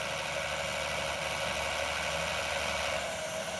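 A diesel engine on a delivery truck idles with a steady, droning rumble and vibration, heard close and continuous with no voices.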